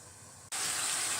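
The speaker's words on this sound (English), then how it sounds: "you can hear the sizzle." Wontons frying in a covered pan with a thin coat of oil, a soft steady hiss that suddenly jumps into a loud, bright sizzle and steam rush as the lid comes off.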